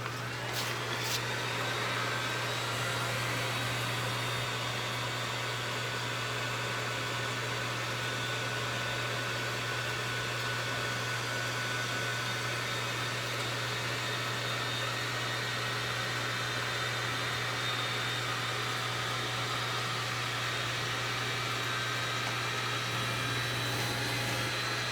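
A Delta BCB1012UH-A blower inflating a costume runs with a steady, close, continuous motor whir and airy rush, holding an even level throughout with no talk.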